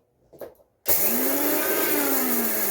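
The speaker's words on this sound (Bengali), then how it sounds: "তাহলে মশলাটা গুঁড়ো করে নিচ্ছে। আওয়াজ কি দেখেছো?" Electric mixer grinder powdering mustard seeds and spices, starting abruptly after a brief quiet moment and then running as a loud, steady, high-pitched whine with a slowly falling motor tone.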